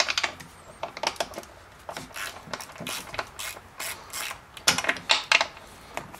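Ratchet wrench loosening 10mm nuts on a Jeep JK Pentastar engine, close-up bursts of rapid clicking pawl ticks in uneven strokes, with no talking.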